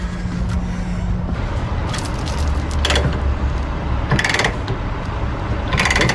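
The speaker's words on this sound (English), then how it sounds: "Little trick when you have a binder that doesn't want to cooperate. You can use your winch bar." A ratchet chain binder on a truck load of heavy equipment is worked with a winch bar, giving a few scattered metallic clicks and ratcheting clanks over a steady background rumble.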